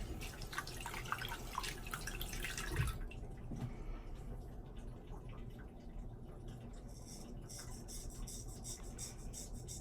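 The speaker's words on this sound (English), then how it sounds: "I'm just sticking this right on the faucet." A kitchen or bathroom faucet running steadily nearby to add water to shaving lather, a continuous hissing, splashing stream that is fairly faint and shifts in tone partway through, with no talking.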